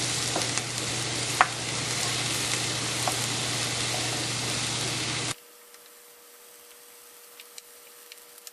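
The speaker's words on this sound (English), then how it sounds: "we want to saute these until they soften." Onions saute in a pan with a steady, close sizzle and occasional stirring clicks, then the sound cuts abruptly to near silence with faint scattered ticks.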